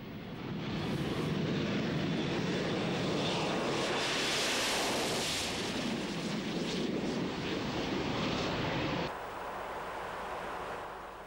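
A Harrier GR5 jet aircraft roars with a loud, sustained engine blast that swells and then drops off sharply near the end, with no voices.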